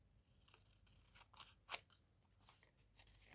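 Scissors snip around the edge of a book page in a quiet, close series of small crunching cuts, with one sharper snip near the middle.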